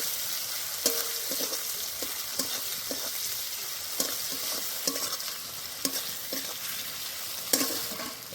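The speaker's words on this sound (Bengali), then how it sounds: "পেঁয়াজটা দিয়ে একটু ভেজে নেব।" Chopped onion frying in oil in a pan for Bengali katla fish curry, an even sizzle with repeated clicks and scrapes of a spatula stirring, close and moderately loud.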